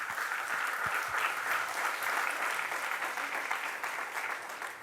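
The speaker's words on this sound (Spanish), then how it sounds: "Dele un aplauso al Señor." Steady, sustained applause from a church congregation during a Spanish-language worship service, filling the room evenly for several seconds.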